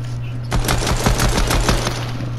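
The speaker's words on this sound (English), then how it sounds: "Boy, you can shoot him down." Rapid automatic gunfire in Fortnite, a burst of roughly a dozen sharp evenly spaced shots over about a second and a half, loud and close, beginning after a brief quiet pause.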